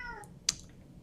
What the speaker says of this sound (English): I'm sorry if you can hear my cat. He is getting involved at this point.